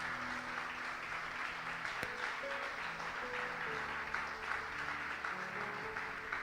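Quiet, steady applause from a church congregation during a worship service, with faint sustained tones and murmurs underneath the clapping.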